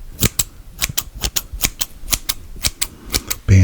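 Scissors cut off leftover bandage during an ASMR medical exam roleplay: a close, crisp series of rhythmic snips, followed by a brief thump at the end.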